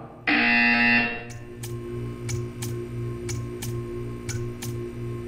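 Test chamber buzzer from the video game Portal: a loud, sustained electronic buzz lasting under a second, followed by a quieter run of evenly spaced ticks over a low hum.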